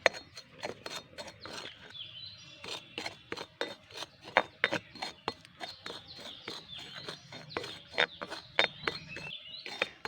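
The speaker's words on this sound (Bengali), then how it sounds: "সুজিটা ভেজে নেব হালকা করে। জাস্ট 2 মিনিট মতন হালকা নাড়াচাড়া করে নেব।" Semolina being lightly dry-roasted in a pan and stirred, heard as a rapid series of close, sharp scraping strokes in an irregular rhythm, fairly faint overall.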